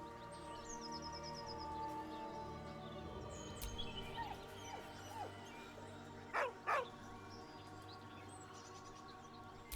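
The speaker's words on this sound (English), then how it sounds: "With a deep, heartbroken whine, the dog bows his head." A dog in Baldur's Gate 3 grieving beside a corpse, giving faint whimpers and soft yips over a low ambient game hum, with two short sharp sounds near the end.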